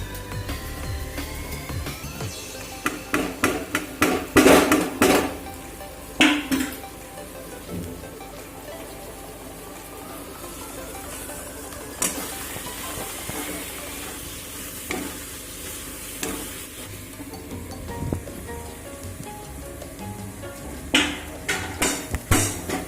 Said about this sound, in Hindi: अब मैं इसमें सारी सब्जियाँ ऐड कर दूँगी ये जो मैंने भून के रखे थे